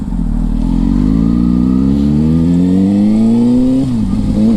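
A 2007 Kawasaki ZX6R Ninja 600 sport bike being ridden, its engine loud and close as it climbs steadily in pitch through the revs, then dips briefly with a gear change and pulls on again.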